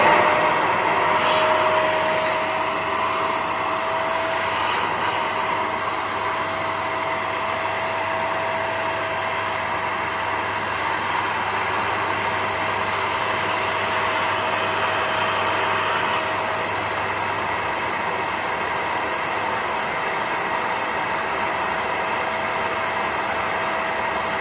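A Vax Spot Wash carpet cleaner running its self-cleaning cycle, sucking solution through its hose: a loud, steady, close-up motor whine and airy suction roar lasting the whole time with barely any change.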